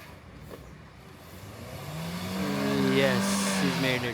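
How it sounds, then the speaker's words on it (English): A taxi's car engine revs hard as it struggles to climb out of deep sand near a Goa fort, the pitch rising and swelling louder over several seconds, with a voice talking faintly underneath. "this cab guy is finding it difficult to get his car out."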